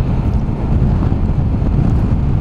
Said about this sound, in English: a bit of wind, not me for a change